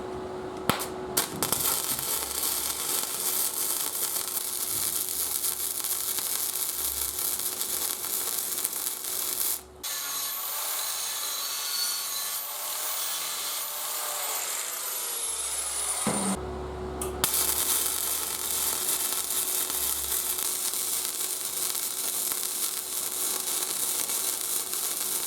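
Steady crackling hiss of tack welding on steel plate during a liveaboard steel boat refit, close and continuous, stopping briefly twice before resuming.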